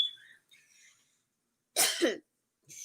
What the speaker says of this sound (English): this chili powder is making me cough